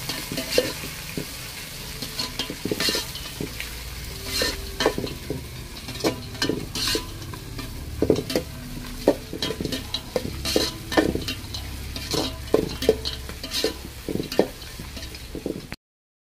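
Onions and green chillies sizzle in hot oil while a utensil stirs and scrapes the pan in irregular bursts, close up and steady with no talking.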